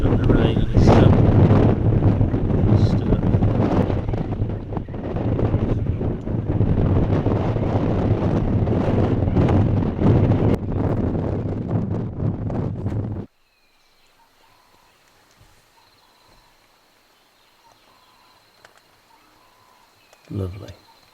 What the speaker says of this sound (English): Really windy. Storm's on its way. It's starting to rain